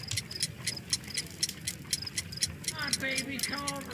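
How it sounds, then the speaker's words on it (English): Homemade time bomb in a Sherlock Holmes video game, built with a bell and hammer alarm, ticking in a steady, even rhythm close by, with a brief tonal sound near the end. "A fancy ticking homemade gift from a secret admirer."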